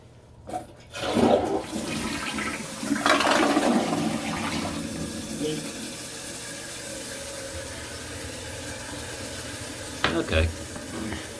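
A newly installed toilet flushes with a loud rush of water, then the tank refills with a steady hiss of running water. A brief gurgle comes near the end.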